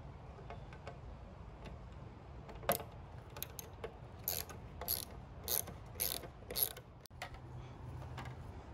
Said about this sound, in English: I'm using a T25, a Torx 25, to take out the existing bolts